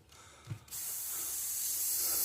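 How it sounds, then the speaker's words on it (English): Airbrush test-spraying Createx paint after cleaning: a faint click, then a steady, loud hiss of spray that holds for the rest of the clip, alone. "just always test spray that after you clean out your airbrush"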